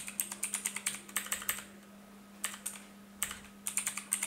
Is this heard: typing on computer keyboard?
yes